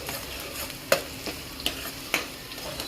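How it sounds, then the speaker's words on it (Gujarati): Green chilies and a small piece of ginger sauté in a hot pan while a utensil stirs them, giving a quiet sizzle with a few sharp scraping clicks and no talking. "હવે અંદર લીલા મરચાં, 2 મરચાં છે, નાનો ટુકડો 1 આદુનો, સતળાવા દેવાનો।"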